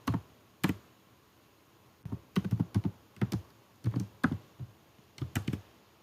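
Keys clatter on a computer keyboard while code is typed in Google Colab, short bursts of close, crisp clicks separated by brief pauses, with no talking.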